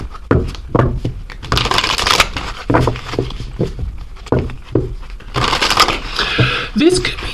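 Oracle cards shuffled by hand in quick riffling bursts of papery slaps and rustles, close and fairly loud, with a person talking during the shuffle.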